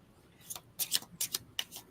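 A deck of playing cards is shuffled nearby in a few quick riffles, four short crisp rattling bursts in close succession, heard alone without talk.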